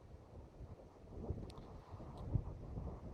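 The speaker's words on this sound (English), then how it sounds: "It's blowing in the wind." Wind gusting during an outdoor dust storm, a low rumbling buffeting against the microphone that rises and falls, faint overall, with a couple of brief higher rattles.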